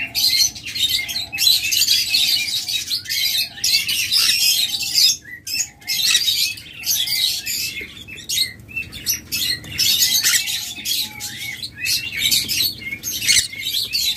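A pair of green cheek conure parrots chirps and squawks constantly, in shrill, rapid, overlapping bursts, close and loud with a low hum underneath and no talking.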